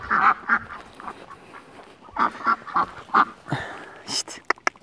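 Ducks quack in short repeated bursts, a few loud nasal calls in clusters with quieter pauses between, close by outdoors.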